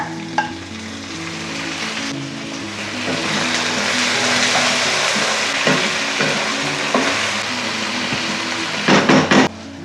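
Tomatoes frying with ginger garlic paste in a pan for dhaba-style mutter paneer: a loud, steady sizzle close by, with stirring scrapes and a few clatters near the end.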